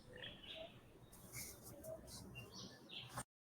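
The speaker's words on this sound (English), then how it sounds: "You hear that beautiful background noise, bro?" Birds chirping faintly in the background, scattered short tweets and calls over a soft hiss, with a muffled voice briefly in the mix.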